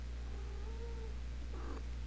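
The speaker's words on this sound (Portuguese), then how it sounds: "Ah, meu gato chegou aqui" A pet cat gives a drawn-out meow followed by a brief second call, fairly close, over a steady low electrical hum indoors.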